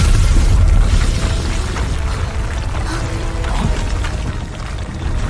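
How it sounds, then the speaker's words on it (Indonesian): A deep, heavy boom from a meteor rock being shattered rolls out loudly at the start, followed by a sustained rumbling roar and crackling debris that slowly fades. "ledakan yang cukup besar"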